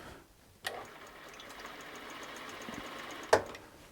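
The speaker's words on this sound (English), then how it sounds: "And then engage the bobbin winder like so." A Zoje ZJ0303L heavy-duty industrial walking-foot sewing machine winds a bobbin, giving a steady whirring hum that starts with a click and runs evenly to a sharp click near the end.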